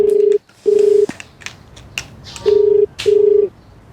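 A telephone ringback tone from an unanswered call in a television crime drama: a steady electronic tone pulses in short double bursts, clear and close, with faint background sounds between the rings.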